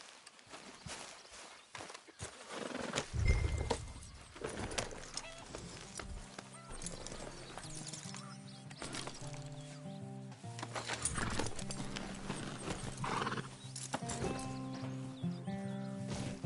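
Video game horse hooves clip-clop at a walking pace over background music, steady and moderately close, with a brief louder thud early on.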